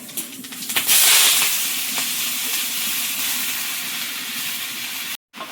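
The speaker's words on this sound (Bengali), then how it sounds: "কড়াইয়ে শুকনো লঙ্কা দিয়েছি দিয়ে সর্ষের তেল দিলাম এবার একটু কালো জিরে তেলের মধ্যে দেবো পুরো শাকটা চাপিয়ে দেবো" Leafy greens frying in a wok of mustard oil with dried red chili and nigella seeds give a steady, close sizzle with a louder surge near the start, a brief break near the end, then more sizzling.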